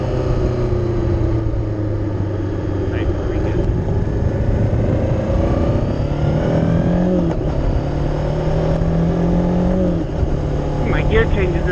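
Motorcycle engine droning steadily while riding, its pitch rising and dropping through several rough gear changes amid constant wind noise, with a rider talking over it.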